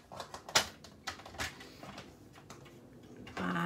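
Paper being cut for a handmade treat box, with faint scraping, sliding and crisp snipping sounds at close range and no talk.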